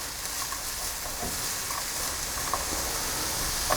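Carrots and onion sauté gently in a little oil over lowered heat, a steady soft sizzle and hiss running throughout with faint occasional clicks, no voices.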